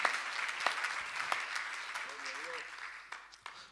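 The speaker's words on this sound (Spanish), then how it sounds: "Den un aplauso al Señor" A church congregation claps in worship, a fairly quiet, diffuse patter of applause that thins out over a few seconds with a brief voice in the middle.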